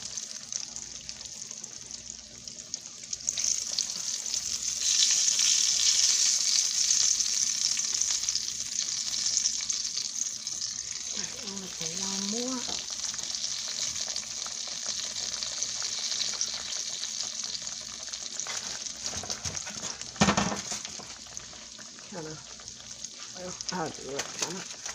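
Southern fried sweet potato pies fry in hot oil with a steady, close hiss and crackle that runs throughout, with a few brief clatters and short bits of talk.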